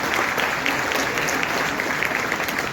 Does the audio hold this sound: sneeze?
no